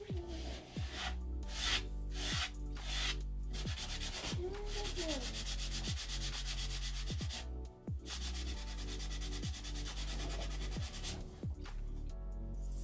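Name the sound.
sanding pad sanding a paper edge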